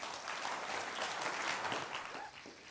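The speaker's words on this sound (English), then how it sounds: "I'm glad you stood up and clapped at the beginning" An audience at a corporate compensation-plan presentation applauds as a speaker walks on stage: dense, steady clapping that holds at full strength, then starts to thin near the end.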